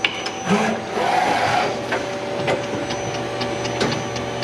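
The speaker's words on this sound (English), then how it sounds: "We actually classify this as one of our high-speed loading machines." A Takamaz XT 6 CNC lathe with a high-speed gantry loader and conveyor runs close by, giving a continuous mechanical whir and hum with steady tones, sliding motor sweeps and a few sharp clicks and clunks.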